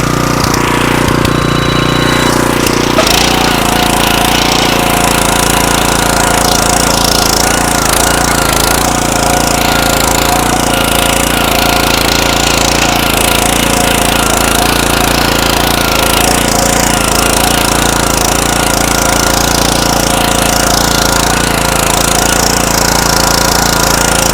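A motorized tiller digs soil in a field, its engine roaring loud and steady at close range, with a rough, clattering churn that continues without a break.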